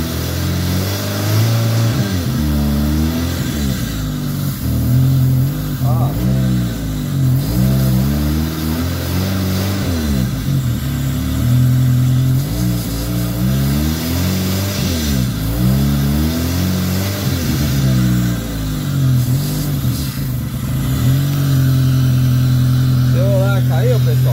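Fiat Palio engine revved repeatedly during a decarbonization treatment, rising and falling in regular surges of throttle, close and loud, settling toward a steady idle at the end.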